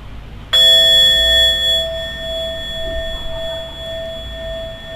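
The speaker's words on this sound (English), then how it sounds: "just to help to bring us to the sound of the bell" A meditation bell is struck once, giving a clear, loud strike with a long, steady ringing tone that fades slowly over several seconds against a quiet room.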